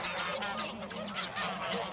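Farm geese honk continuously and close up, several overlapping nasal calls forming a loud, busy chorus with no voices.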